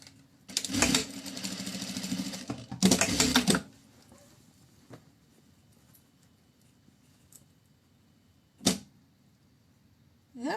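A sewing machine stitching the lining of a handmade Ambre bag just past the darts: two close mechanical whirring bursts, a longer one and then a short one, followed by near quiet and a single faint click.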